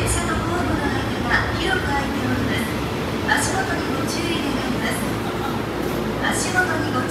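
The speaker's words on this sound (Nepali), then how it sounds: "म चाहिँ ट्रेन पर्खिरहेको छु नि, यति धेरै मान्छे भइसक्यो ट्रेन पर्खेको" A train station in Osaka fills the air with a steady, low rumbling ambience and a crowd murmur, with faint higher clanks and squeals recurring throughout.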